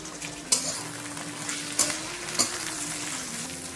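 Onion and garlic fry with chopped tomatoes in a pan, making a steady soft sizzle throughout, broken by three sharp clinks of a utensil stirring against the pan.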